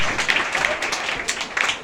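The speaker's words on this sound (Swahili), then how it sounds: "Tuwapigie pia makofi." Church congregation at a Pentecostal worship service applauding the sound team, a steady wash of many hands clapping with scattered brighter claps rising and falling throughout.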